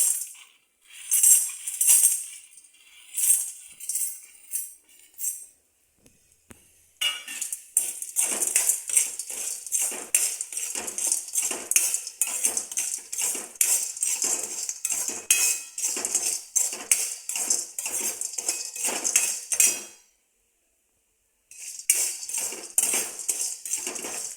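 Crushed dried mungodi lentil dumplings are stirred in hot oil in a metal pan, with close, quick metallic scrapes and clinks of the utensil repeating steadily in runs and then stopping, with no talk.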